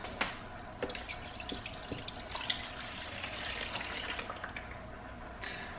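Water poured from a tap or container into a Babyliss disinfectant box, a steady close splashing trickle with scattered drips and clicks running throughout.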